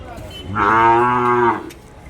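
A single long, loud moo from one of the cattle or calves at the Kundarapalli native cattle market in Tamil Nadu, sounding close by over faint background noise.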